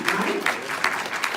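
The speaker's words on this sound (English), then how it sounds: "You can clap now." Audience applause at a live talk on research updates in multiple sclerosis, with steady clapping that swells in repeated waves, moderately loud and continuous throughout.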